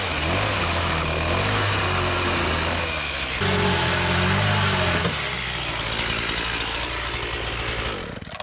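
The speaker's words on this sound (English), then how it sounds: "always warm up the chainsaw before you actually start cutting with the thing" A long-owned chainsaw warms up before cutting log cabin siding, its two-stroke engine running loud and steady near the listener with a sustained buzzing drone and slight pitch shifts throughout, no talking.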